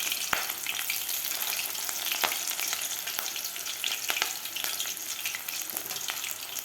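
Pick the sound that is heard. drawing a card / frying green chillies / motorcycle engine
frying green chillies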